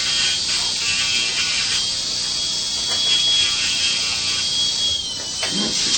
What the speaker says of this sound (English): sand the edges smooth.